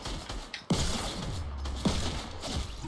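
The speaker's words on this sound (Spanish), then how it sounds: "Y estoy escuchando tiros por aquí." Gunfire in the video game Fortnite, two sharp shots about a second apart, each followed by a brief decaying tail, over a steady game background.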